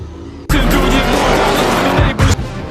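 Street-racing cars from the film Fast and Furious 9 burst in with a loud, sustained engine roar and tire noise that starts abruptly. The sound dips briefly near the end before surging again, with no talking.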